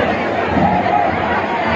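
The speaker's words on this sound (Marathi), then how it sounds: "सर्व भक्तांचा जल्लोष बघू शकता तुम्ही" Steady hubbub from a crowd of devotees packed into Ekvira Devi temple near Lonavala, many voices blending into a constant murmur with no single speaker standing out.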